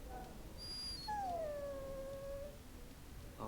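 A dog in the Dragon Age Origins video game lets out a single drawn-out, falling whine over steady background ambience, close and moderately loud.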